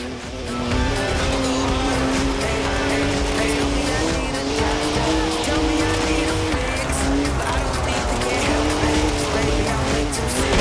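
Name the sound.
BMW 3-litre twin-turbo straight six car driving, Forza Horizon 4 video game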